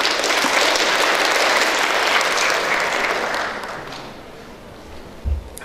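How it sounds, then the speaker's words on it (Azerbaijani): An audience at a pharmacists' conference in Azerbaijan claps loudly and steadily, the applause fading out after a few seconds, followed by a single bump. "Alqışlarınızla."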